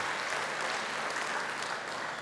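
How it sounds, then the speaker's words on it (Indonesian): A church congregation gives a steady, dense round of applause during a sermon, many hands clapping together at a constant level for a couple of seconds. "Yang percaya beri tepuk tangan bagi dia."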